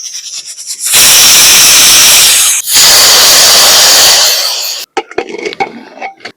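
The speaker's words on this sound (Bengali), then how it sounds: "এবার বসিয়ে দিচ্ছি প্রেসার কুকারটা। 3 থেকে 4টে সিটি দিলেই কিন্তু আলুগুলো খুব সুন্দরভাবে সিদ্ধ হয়ে যাবে।" A pressure cooker holding potatoes on the boil lets off a loud, steady rush of hissing steam in two long bursts separated by a brief break, then fades into quieter clinks and small noises.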